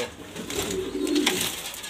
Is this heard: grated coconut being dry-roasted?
no